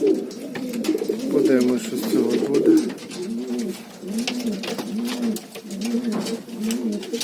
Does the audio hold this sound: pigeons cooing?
yes